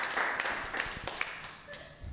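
Scattered claps and taps from a stand-up comedy audience, a thin, sparse smattering of applause with a few sharper individual hand claps rising briefly over a dull room background.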